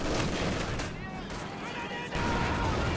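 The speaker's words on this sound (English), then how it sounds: "Mortar going down." Mortar fire and battle noise from the WWII strategy game Company of Heroes 2, a dense wash of distant gunfire and shelling running under a commentator's voice.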